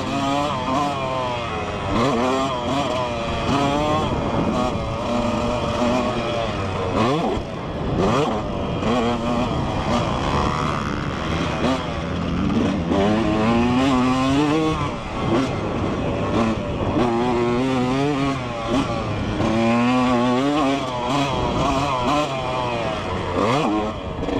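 A 2003 Yamaha YZ125 two-stroke dirt bike being ridden on a motocross track, its engine revving and buzzing loud and close, rising and falling through throttle changes and gear shifts without pause.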